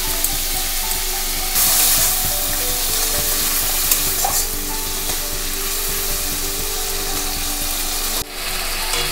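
Ginger paste frying in a pan with spice paste and a little water, a loud continuous sizzle with a steady mechanical rattling hum in the background and a brief louder burst of hiss early on.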